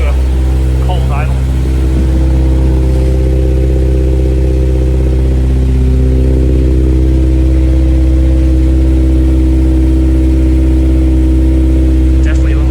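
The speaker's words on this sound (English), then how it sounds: "It's definitely got a bit more exhaust sound now." A Honda S2000 engine with a custom intake, header and exhaust idles cold, giving a loud, steady, deep exhaust drone that holds unchanged throughout.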